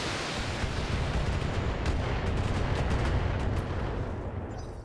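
Shadowhawk mech in BattleTech opens fire on an enemy crab mech in cover, a dense, continuous barrage of heavy weapons fire with rumbling low booms and crackling bursts, loud and sustained, easing slightly toward the end.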